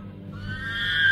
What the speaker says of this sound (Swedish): Hästen gnäggade ängsligt.